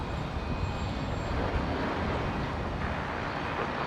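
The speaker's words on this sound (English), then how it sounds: "the Alliance Fokker 100 there, just touching down from Rockhampton" Alliance Fokker 100 jet touching down at Brisbane airport, a steady broadband roar of engines and rushing air that stays fairly constant and moderately distant throughout, with no talking.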